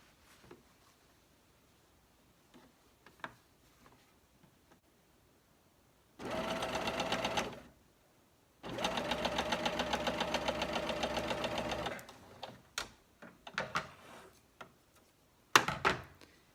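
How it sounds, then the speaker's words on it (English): Sewing machine stitching fabric strips together into quilt binding, two steady bursts of running motor and needle, one about two seconds and a longer one about three seconds, with quiet handling clicks between and after. "I will be sewing from this corner to that corner to make a length of binding"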